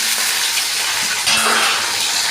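Tomatoes drop into a pan of shallots and curry leaves frying in oil, a loud continuous hiss and sizzle that swells briefly midway as they hit the fat, with no talking.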